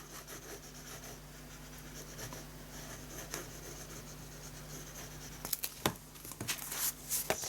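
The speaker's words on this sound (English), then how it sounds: "So we put the box together now, and we put a layer of glue along here." A layer of glue is spread by hand along the edge of a paper gift box. Close, soft scratchy rubbing strokes are followed by sharper rustles and taps near the end, with no voices.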